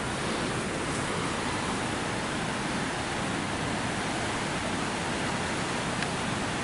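A loud, unbroken roar of rushing water through dam gates, broad and steady like a heavy spillway flow, with no voices, on the Black River in New York.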